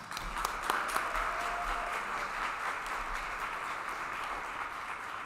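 Audience applause at a disability mentoring day reception, a steady, fairly distant round of clapping from a crowd that carries on evenly without talk.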